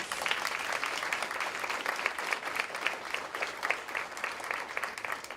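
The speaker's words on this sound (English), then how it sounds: "So please give them a round of applause." A sustained round of audience applause at a Law Day event, a dense steady patter of many hands clapping throughout with no talk over it.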